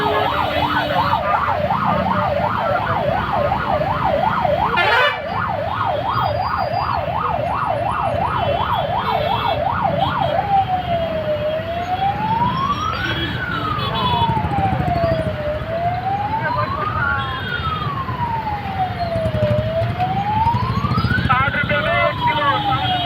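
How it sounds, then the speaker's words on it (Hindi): An ambulance stuck in a traffic jam sounds its siren close by, first a rapid warbling yelp and then a slower rising and falling wail, over steady street and engine noise. "इस ट्रैफिक जाम में एक एम्बुलेंस भी फंस गई"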